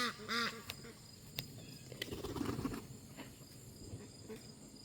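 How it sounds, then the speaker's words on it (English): Ducks give a few soft quacks early on, faint and somewhat distant, followed by low rustling and crickets chirping in the background. "The ducks are sad they're not getting any attention yet"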